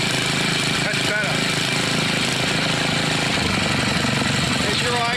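Briggs & Stratton 5 hp OHV engine on a Mastercraft (Lawn Chief) rototiller, recently repaired for a stuck valve, idling steadily and close by with a continuous rough putter, while people talk over it.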